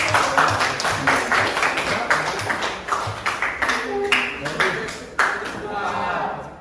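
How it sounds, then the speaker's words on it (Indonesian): Students in a classroom clap together in a steady, fairly loud patter of hand claps that fills the room, with scattered voices and chatter mixed underneath. "Tepuk tangan."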